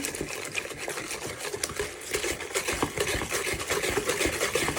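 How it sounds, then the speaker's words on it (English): Eggs and sugar beaten by hand with a whisk in a bowl, rapid rhythmic clicking and sloshing that runs continuously, close and fairly loud. "Give this a good whisk. I'm using a hand whisk"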